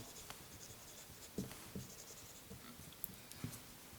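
Faint, scratchy strokes of writing on a board during a chemistry lecture come in short irregular bursts, quiet and close, with no talking.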